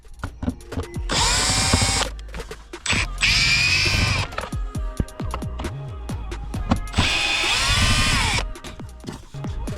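A power drill or driver whirs in three bursts, each a couple of seconds long, close and loud, with clicks and clatter between them as screws come out of the airbox of a Skoda Superb.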